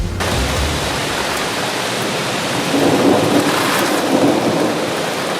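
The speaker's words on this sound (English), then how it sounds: "The sound of the storm as it moved through the south end tonight." A severe thunderstorm rolls through with torrential, wind-driven rain roaring loudly and continuously, thunder rumbling underneath throughout.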